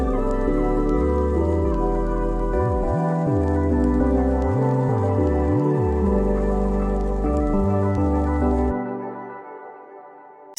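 Electronic melody loops play as a layered synth phrase with a pulsing, gliding bass line, running steadily before fading out near the end.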